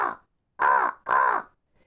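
A crow caws from the top of a tall tree: three loud, harsh caws close by, the first cut short and the last two evenly spaced, with no other sounds.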